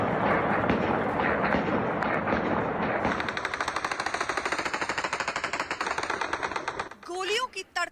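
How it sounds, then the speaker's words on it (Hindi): AK-47 rifles fire into the air in celebration: dense, continuous gunfire crackles at first, then settles into rapid, evenly spaced bursts like a machine gun. It is loud and fairly close, and a voice cuts in at the end. "गोलियों की तड़तड़ाहट"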